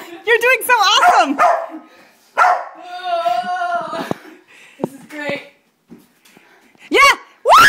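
A dog barks and yips indoors in a house during the removal of a bat, with a few sharp barks at the start and again near the end, mixed with excited human voices talking over it.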